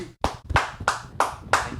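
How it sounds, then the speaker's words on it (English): Hand claps in a podcast studio, five sharp, close claps at a slightly uneven rhythm, roughly every third of a second, each standing alone with a quick decay. "We can clap."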